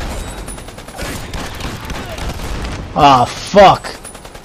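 Video game The Expendables 2: rapid bursts of gunfire crackle throughout, with two louder close shots near the end, while a man swears briefly.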